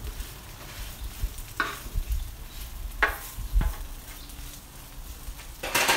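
French fries cook on a Blackstone griddle with a low, steady sizzle, broken by several sharp scraping and clinking strokes of a metal spatula turning and stirring them, close up and without talk.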